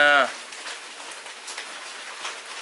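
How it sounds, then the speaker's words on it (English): Steady light rain patters across the whole stretch, a soft hiss of drops on surfaces after a brief voiced sound at the very start. "Oh, it's starting to rain again."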